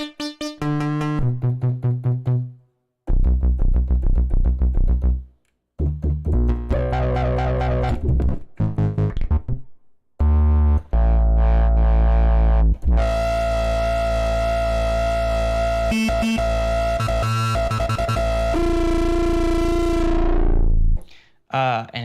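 A Moog synthesizer plays a fat, distorted bass line in a live session, with sustained buzzing notes and bursts that stop and start, and a long held tone near the end. No one talks over it.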